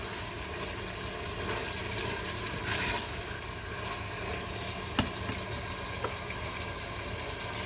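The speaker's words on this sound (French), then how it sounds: "j'entends que ça mijote" Food simmering in a pan, a constant gentle frying hiss that holds steady throughout, with a few faint clicks and a brief louder rush partway through, close and unaccompanied by talk.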